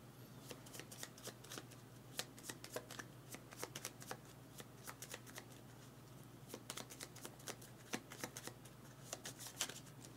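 A deck of board game cards is riffle-shuffled over and over, giving quick bursts of crisp flicking and snapping in irregular runs at close range, fairly quiet, with no talking.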